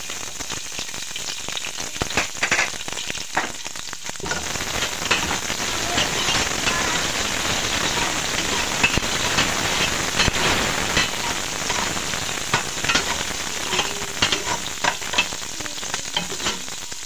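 Onions frying in a pan for a Filipino bitter beef stew, giving a loud, dense, continuous crackling sizzle like heavy rain, with scattered sharper pops throughout and no voices.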